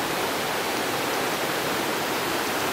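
The Fırtına stream rushes through a deep green valley, a loud steady broadband roar of flowing water with no pause and no voices.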